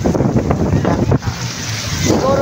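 Steady gusting wind buffets the microphone outdoors at the beach in Lingayen, Pangasinan, a broad roaring rush with a brief dip before it picks up again.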